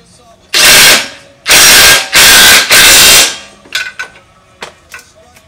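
A 21 mm socket on a ratchet tightens a lower control arm bolt on a Jeep JL during a lift install, heard as four loud, close bursts of rapid clicking, followed by a few softer clicks and knocks.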